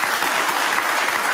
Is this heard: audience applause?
yes